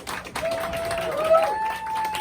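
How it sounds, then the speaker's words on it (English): A comedy roast battle audience claps and whoops to vote for a contestant, a short burst of applause with a few high cheers rising over it, mixed with voices. "make some noise if you want Christian Blaker to be the winner"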